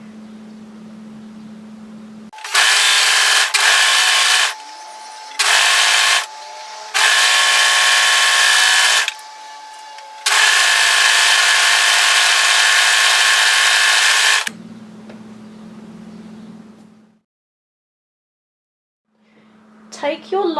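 An overlocker serges the notched bottom edge of apron fabric, its loud mechanical whir running in several bursts of stitching with short pauses between, then falling quiet apart from a low hum.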